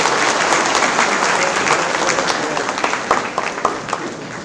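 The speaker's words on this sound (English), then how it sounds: "Ladies and gentlemen, let's give him a big round of applause." An audience at an academic building inauguration gives strong, sustained applause that stays loud throughout, with individual claps standing out toward the end.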